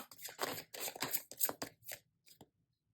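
Quick papery riffling of tarot cards being shuffled, several short bursts in succession close by, tapering into a couple of soft taps before quiet.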